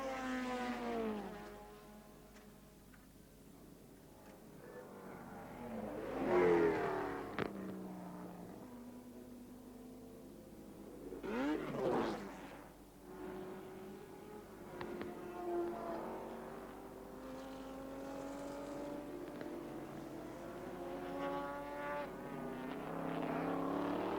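Race cars at the 1982 Oran Park 300, a 100-lap touring car race, roaring past with engine notes rising and falling in several swells, no voices.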